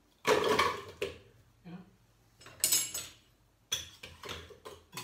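Frozen banana slices dropped into a food processor fitted with an S blade, in several clattering bursts of hard pieces hitting the bowl, separated by short pauses.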